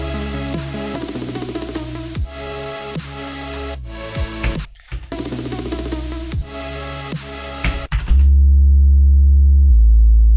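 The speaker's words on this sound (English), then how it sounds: "I need to find my super saws in Serum" A bright supersaw synth lead built in Serum for a melodic dubstep drop plays in stacked, chiming chords, cuts out briefly, then ends on a sustained low tone.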